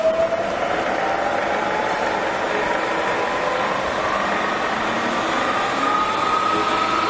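Milling machine spindle running at its lowest speed setting, a loud continuous mechanical hum and whir with faint tonal whine, steady throughout with no talking.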